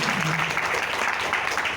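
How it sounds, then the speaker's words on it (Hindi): An audience at a religious talk claims loud applause, a dense burst of many hands clapping steadily for a couple of seconds, with a low voice faintly audible beneath. "जोरदार ताली बजाएं, जोरदार।"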